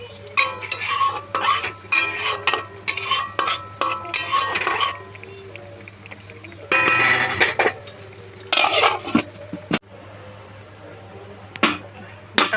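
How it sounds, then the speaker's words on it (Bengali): A spoon stirring Bata fish curry in a pan: repeated scraping and clinking strokes in bursts, with quieter pauses and a low steady hum underneath. "এবার আমি এটা নেড়ে দেবো, নেড়ে চাপা দিয়ে দেবো।"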